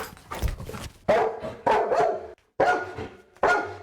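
Trained police dog barking loudly in a series of sharp, close barks with short gaps, inside a building during a police search exercise.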